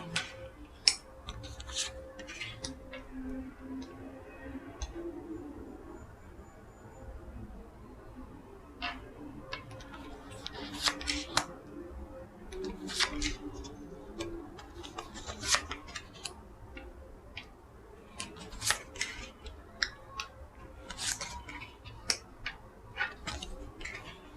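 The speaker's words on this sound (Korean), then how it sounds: "카드 나열 해보도록 하겠습니다." Tarot cards laid out one by one on a table, giving soft, scattered clicks and light slaps, quiet and close, with brief pauses between them.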